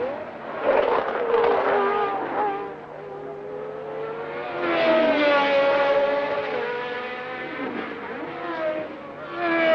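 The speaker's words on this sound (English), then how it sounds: "Daly, Cheever, fourth and fifth, completing the lap." Formula 1 race cars at the 1982 Belgian Grand Prix scream past, their high-pitched engine whines sweeping up and down in pitch as they approach and recede, loud and without any talk.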